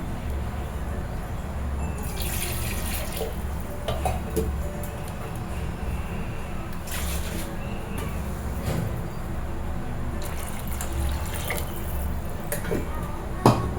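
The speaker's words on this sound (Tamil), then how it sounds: "நான் இன்னும் கொஞ்சம் தண்ணி ஆட் பண்ணிக்கிறேன்" Water added to the thick masala of a butter egg curry, a steady close pour and splash with a few drips over a constant low background hum.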